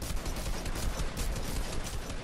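Rapid gunfire in the video game Fortnite, a dense burst of overlapping shots fired in quick succession, fairly close and steady across the moment.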